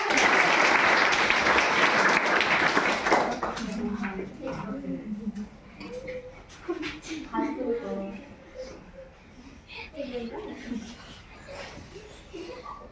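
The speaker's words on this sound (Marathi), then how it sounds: "टाळ्या वाजवा." Audience clapping at a hygiene program, loud dense applause for about three seconds that fades out, followed by someone speaking with some chuckles from the crowd.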